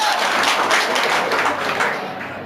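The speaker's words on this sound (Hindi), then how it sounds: "बहुत बढ़िया, तालियां इसके लिए।" Students in a classroom clap together in a steady, dense burst of applause that fills the whole moment, fairly loud and even, easing slightly toward the end with no voices over it.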